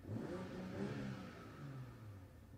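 A BMW M340i engine revs steadily, heard quietly from inside the car as a low droning rise that swells and then eases off.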